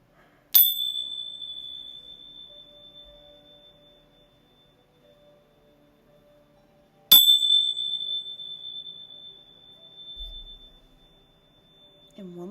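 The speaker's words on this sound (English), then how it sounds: "actually ring my bells just really quickly" Small handheld bells struck sharply, heard as two clear, ringing strikes that each sustain and slowly fade, separated by several seconds of quiet in an otherwise still room, with faint rustling near the end.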